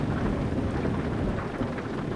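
Rain and rolling thunder from a storm in Euro Truck Simulator 2, a dense, steady roar of falling rain with low rumbling underneath, loud and unbroken, with no voices.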